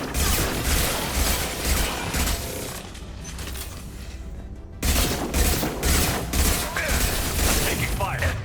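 Gunfire in a Mass Effect 2 firefight, with dense bursts of shots and booms that keep going, briefly drop to a quieter lull, then surge back loud over game noise.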